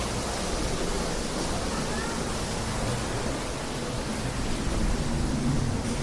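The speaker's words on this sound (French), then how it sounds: "On a la cascade." A waterfall roars as a steady, dense broadband rush, unbroken and fairly loud, with no voices above it.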